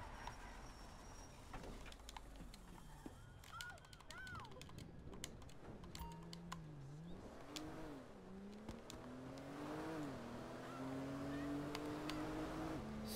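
Engine of a stolen vehicle, a dune buggy in a Battlefield video game, droning and rising in pitch as it drives and accelerates, with scattered gunfire cracks early on, steady and moderately loud.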